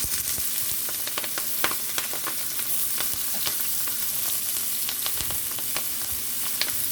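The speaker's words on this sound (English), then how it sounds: "So I'm just gonna put in the onions." Onions frying in oil and butter for callaloo and saltfish, green onions with sweet onion, giving a steady close sizzle scattered with sharp crackles and pops, no voices.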